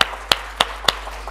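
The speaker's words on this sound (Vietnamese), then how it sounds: "chúng ta hãy vỗ tay cho hai con người này" Four sharp, evenly spaced claps ring out in a church, crisp and close with short gaps between them, heard alone without talk.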